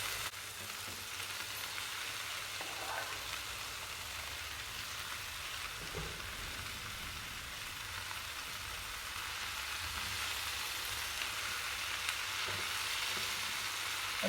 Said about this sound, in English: just keep stirring those round until they start to cook down a little bit